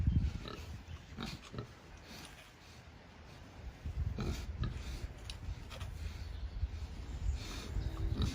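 Pigs chew and crunch raw mini pumpkins close up, with wet, irregular bites and snuffling grunts coming in uneven bursts, fairly quiet overall.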